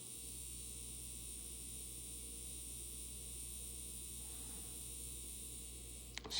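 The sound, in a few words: Tyco 4-6-0 model locomotive motor running after oiling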